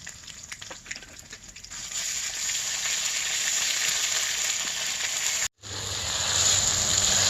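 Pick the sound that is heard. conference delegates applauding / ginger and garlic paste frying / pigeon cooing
ginger and garlic paste frying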